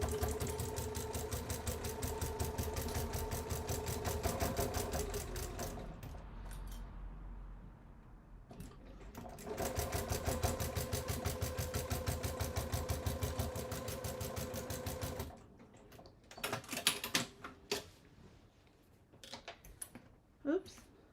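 A sewing machine stitches a bag gusset, running in rapid, steady bursts of stitching with a pause partway through. A person then talks near the end over some handling noises.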